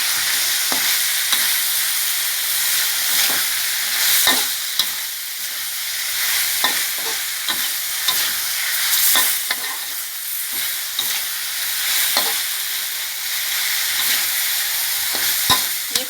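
Catfish being stir-fried with a large handful of holy basil leaves, a steady loud sizzle with repeated scraping and clacking of a spatula against the pan, continuing without any voices.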